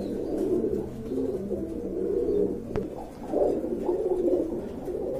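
Many pigeons coo steadily at a Bangladeshi pigeon farm full of eggs and chicks, their soft, throaty calls overlapping in a continuous close chorus with no voices.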